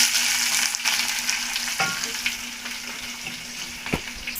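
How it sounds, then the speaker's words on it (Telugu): Onions and green chillies frying in a pan with curry leaves for lemon rice, a continuous close sizzle with occasional scrapes and clinks from stirring, no voices. "ఎర్రగడ్డ పచ్చిమిరపకాయలు వేసేసినాం కదా కాస్త ఫ్రై కానివ్వండి"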